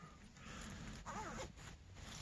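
A zipper pulled up on a 95% polyester, 5% spandex cold-weather base layer, one short rasping zip near the middle over faint, quiet background noise.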